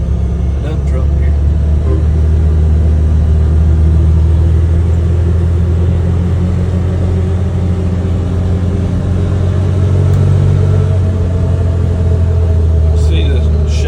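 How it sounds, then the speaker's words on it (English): Steady low rumble of tire road noise and engine from a 2025 Can-Am Defender Lonestar Limited side-by-side on new Valor V14 wheels, driving at speed, a continuous loud drone throughout. "these tires do have a little bit more road noise to them"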